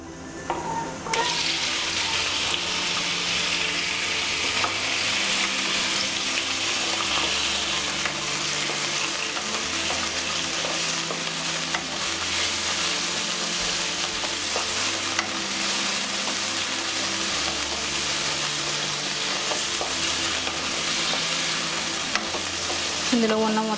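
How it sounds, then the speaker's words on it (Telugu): Raw prawns, washed, fry in hot oil in a pan while being stirred, a steady loud sizzle with rhythmic scraping strokes throughout, close and continuous with no talk. "ఇవి ఇప్పుడు ఈ ఆయిల్లో ఫ్రై చేసుకుందాం."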